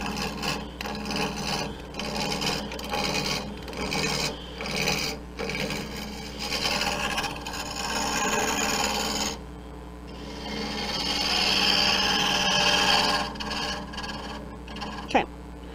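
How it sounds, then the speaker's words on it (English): A woodturning tool takes planing cuts across wood spinning on a lathe while a gnome is turned, giving a steady, close scraping rasp over a low motor hum that rises in intensity partway through. "you can turn the tool sideways and make some just planing cuts"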